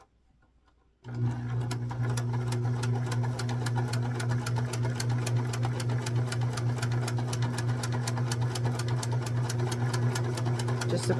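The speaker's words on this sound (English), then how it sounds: "now we are going to sew from the right edge all the way around to the left edge" A domestic sewing machine running a quarter-inch seam around a baby bonnet, starting after a second of quiet and then humming steadily with a fast, even needle clatter, close and continuous to the end.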